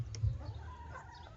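Backyard hens in a walk-in coop, waiting for scratch, give a short, soft burst of low clucking, close by and brief.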